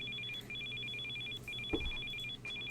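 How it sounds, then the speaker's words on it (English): A telephone rings in the video game Still Life 2, repeating electronic trill bursts with short gaps between them. One soft thump sits partway through. "Answer your your damn phone, phone!"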